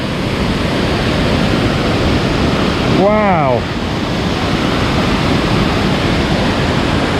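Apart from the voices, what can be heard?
river rushing down into Martvili Canyon, Georgia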